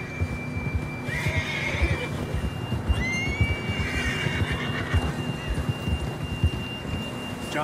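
Horses in Red Dead Redemption 2 give two high, shrill whinnies over a steady rumble of hooves and outdoor ambience, fairly close.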